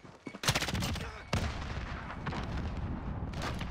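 Grenade explosion in a shooter video game on the Shoothouse map, sharp booming bursts amid a burst of gunfire, followed by continuing rumbling battle noise, fairly faint overall.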